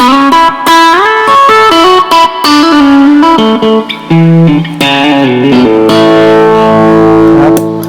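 An electric guitar plays through a vintage tube-style distortion pedal with reverb added, loud gritty sustained chords and single notes ringing out with a spacious tail, no talking.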